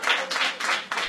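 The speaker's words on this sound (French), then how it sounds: "Ces applaudissements traduisent littéralement la joie et la fierté ressenties par ces hommes et ces femmes" Applause from a crowd of trainees at a certificate ceremony for accounting and HR training, a short burst of dense clapping in pulsing waves, close and fairly loud.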